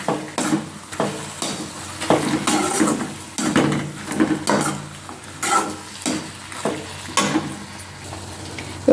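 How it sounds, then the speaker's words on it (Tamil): Three ripe tomatoes sautéing in a pan for mutton leg biryani, a soft sizzle broken by repeated scraping and stirring strokes of a spoon against the pan, close and moderately loud with no talking. "மூணு தக்காளி அதையும் போட்டு நல்லா வதக்குங்க"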